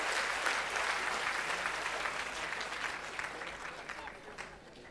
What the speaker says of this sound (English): I want all of you all to give a huge round of applause.